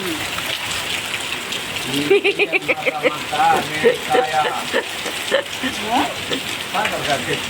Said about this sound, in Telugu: పెద్ద వర్షం, వర్షంతో పాటు గాలి కూడా వచ్చేస్తుంది.